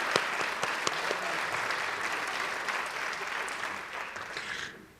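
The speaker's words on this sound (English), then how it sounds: "Please join me in a round of applause for Family First." A crowd at a school district board recognition meeting applauds in a sustained, even round of clapping that fades out at the very end.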